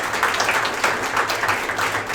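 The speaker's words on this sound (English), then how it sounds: "So let's give Michael a round of applause." Audience applause for a presenter at a local indie game developer meetup, a steady wash of many hands clapping at moderate volume throughout, with no talk over it.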